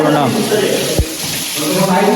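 Water from a hose pipe sprayed across a hall floor during cleaning: a loud, steady rushing hiss of flowing water, close by, with a voice briefly heard under it.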